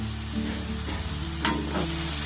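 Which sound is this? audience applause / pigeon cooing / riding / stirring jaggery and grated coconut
stirring jaggery and grated coconut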